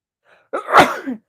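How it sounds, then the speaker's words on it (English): A single person's sneeze, a faint intake breath followed by one sharp, close burst that tails off quickly. "I have to sneeze, excuse me"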